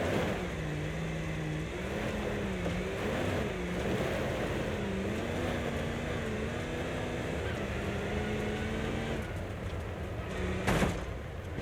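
A large vehicle's engine labours at low revs as it squeezes up a tight hill climb, its drone rising and falling steadily, with a brief sharp knock near the end.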